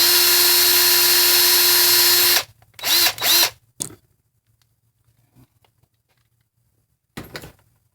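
A high-pitched drill whines steadily for a couple of seconds while boring a 41-thousandths hole in a VW 09G transmission valve body, then stops, followed by a few short bursts and faint clicks in the quiet.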